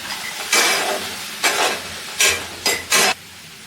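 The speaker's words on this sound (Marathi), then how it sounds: "दहा ते बारा लसूण पाकळ्या टाकून घ्यायच्या आणि एक छोटी वाटी काजू घालून घ्यायचे त्याच्यामध्ये मिक्स करून घ्यायचे" Garlic cloves and cashews fry in a pan, giving five separate bursts of loud hissing sizzle as they are stirred and tossed. Each burst is close and lasts under a second, with quieter gaps between.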